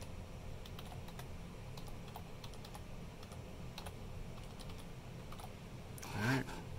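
Someone types a new password on a computer keyboard, a quiet run of scattered key clicks over a steady background hum, with one brief louder clatter near the end.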